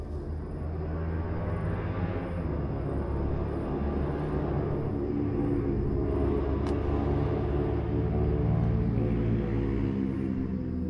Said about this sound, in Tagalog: Sobrang daming dumadaan sa sasakyan,